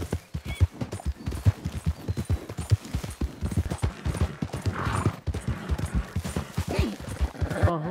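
Horse hooves clip-clop in the Red Dead Redemption video game, with a fast, steady galloping rhythm close and loud throughout, a brief whinny and bursts of gunfire partway through.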